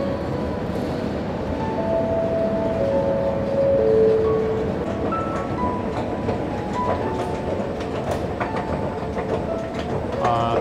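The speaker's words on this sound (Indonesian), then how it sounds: "Ada kereta yang baru sampai." Sydney Metro train pulling into a station with a rumbling roll, clickety-clack of wheels and faint tonal whines from the motors, steady and moderately close, with a little talk in the background.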